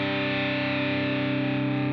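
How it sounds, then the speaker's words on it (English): A sustained, saturated electric guitar note or chord through a distortion tone from the BIAS FX amp-modeling app, buzzing and thick, with a slight wavering texture and no voices. "trying to dial in a good distortion tone that doesn't sound too clangy, metallic-y, overly fuzzy"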